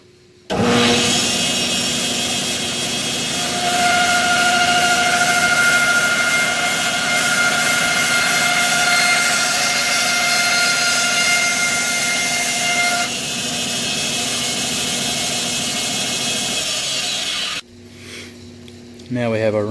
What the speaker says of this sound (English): Now we have our ring blank cut out